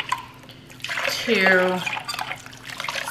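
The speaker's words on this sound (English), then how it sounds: "I've already poured half the water in." Water trickles and splashes as it is poured into a cooking pot, a short rising wash of liquid sound with a person talking over it.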